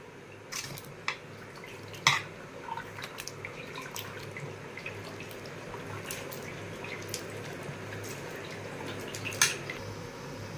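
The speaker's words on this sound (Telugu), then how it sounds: "పిసికేసుకుని రసం కూడా తీసేసుకుంటాను ఒక దాంట్లోకి చింతపండు అంతా కూడా వేసేస్తున్నాను బాగా రసం తీసేసుకుంటా" Tamarind is squeezed by hand to draw its juice into a vessel, giving soft wet squishing under a low hiss, broken by scattered drips and small splashes.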